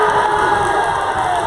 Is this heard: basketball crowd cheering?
yes